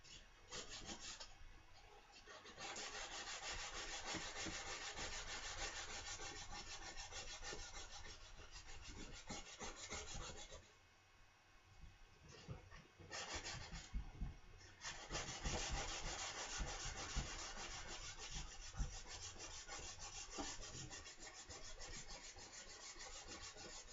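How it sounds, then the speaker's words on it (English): A rusty, pitted saw blade is sanded by hand with 120-grit sandpaper in close, steady rubbing strokes that scratch on continuously, broken by a brief pause midway before the scraping resumes. "So we're going to go back to the 120 now."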